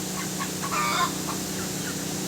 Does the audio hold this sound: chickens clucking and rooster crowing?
yes